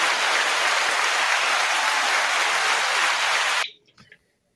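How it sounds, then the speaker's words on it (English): Loud, dense crowd applause from an audience that fills the room evenly, then cuts off abruptly, leaving brief faint scattered sounds and silence. "give a round of applause for the man, the myth, the legend"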